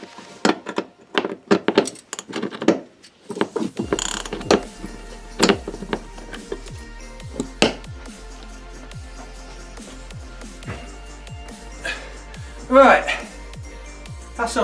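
A ratchet undoes a nut inside the steering column of an Audi with a 2.7 bi-turbo engine, giving a run of quick, close, regular clicks, with occasional clanks of tools and someone talking at times.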